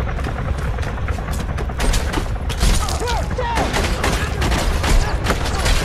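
Dense ARMA 3 gunfire fills the scene, rapid overlapping shots and bursts from several weapons at varying distances, continuous and loud, with people shouting under the firing.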